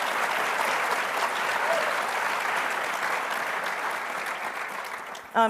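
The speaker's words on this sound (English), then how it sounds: "So give me a round of applause really quick for them being here" Audience applause at a space station research conference, a steady dense wash of clapping from a large crowd that holds evenly for about five seconds before a brief louder sound at the very end.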